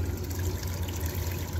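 Water flushing down through a portable sluice set up for clean-up work on the Snake River in Idaho, a steady low rushing wash heard close and continuous throughout, with no talk.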